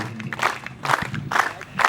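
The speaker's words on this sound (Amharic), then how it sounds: "ወደ ቦታቸው ጭብጨባ ሸኙ" An audience at an Eid al-Adha community gathering gives rhythmic applause, rising and falling in roughly half-second pulses with crowd noise, loud and close throughout.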